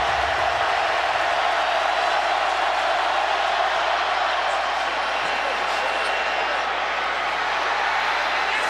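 A college football stadium crowd at Georgia vs Georgia Tech gives off a steady, dense roar during a 53-yard field goal attempt to force overtime, loud and unbroken throughout.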